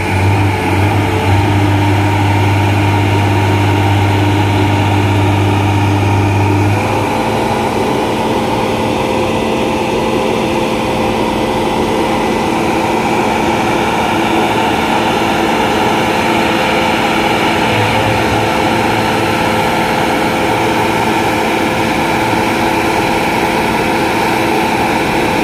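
A large Italian-made trash-cleaning machine at Manila Bay runs its engine steadily, a loud continuous low drone with a strong hum that shifts slightly after a few seconds and carries on without pause.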